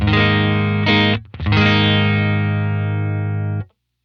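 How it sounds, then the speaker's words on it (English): Clean electric guitar played through a pedalboard, sustained ringing chords that break off briefly near one second, then ring out again until stopping abruptly, loud and close with no voice. "So you've heard the clean sound,"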